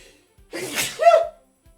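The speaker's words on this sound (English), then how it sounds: "Uh-oh, I feel a sneeze." A single loud sneeze rings out after a sharp intake of breath, close and clear against an otherwise quiet background.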